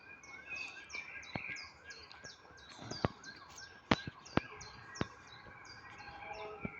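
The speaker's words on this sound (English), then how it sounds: "Hear the sirens." Faint sirens wail in the distance under repeated bird chirps and sharp clicks nearby, a quiet outdoor scene.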